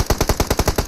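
A loud, steady burst of automatic weapon fire from PUBG Mobile, about eight close, rapid shots in an even rhythm with no voices over them.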